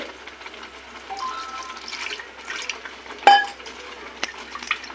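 Water is poured into a jar to rinse out leftover spicy chutney paste, a soft trickle and swish of liquid with a sharp clink of the jar partway through, close and fairly quiet.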